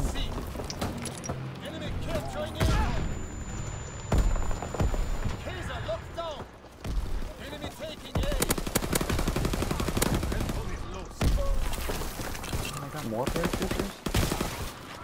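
Shotguns and other guns fire repeatedly during an online multiplayer shooter match fought over a B objective, producing loud bursts of blasts and rapid gunfire with footsteps, under players talking throughout.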